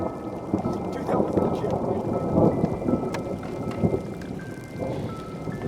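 Thunder from a nearby lightning strike rumbles loud and deep during a storm at a lake, with rain pattering steadily on surfaces throughout.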